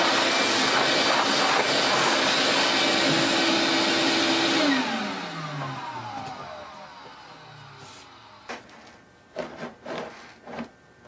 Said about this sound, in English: then I'll vacuum all that dust off of there